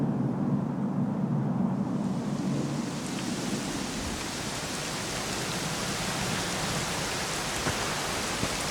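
Steady rain pours in Dragon Quest 11 S on the Switch, a dense, even hiss that stays at a constant level throughout with no voices.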